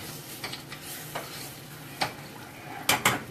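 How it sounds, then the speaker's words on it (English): Beef tips stirred in a hot pan: a few scattered scrapes and sharp clinks of a utensil against the pan over a faint background sizzle, ending in a quick double clatter. "So stir up your beef tips."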